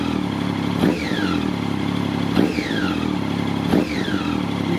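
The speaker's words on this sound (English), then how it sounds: "You gotta love that noise, that sound, three cylinder. Got a nice little purr." A 2009 Triumph Street Triple three-cylinder motorcycle engine idles while still cold, giving a steady low, even purr, with a few brief whooshing swells passing over it.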